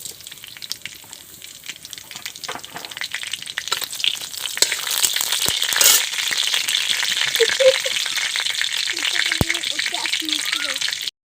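Half a spoon of panch phoron spices hits lightly heated oil and sizzles loudly and steadily, with scattered crackles and pops and occasional stirring, close by.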